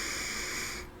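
A single soft inhalation, close and hissing, drawn steadily for under a second before trailing off.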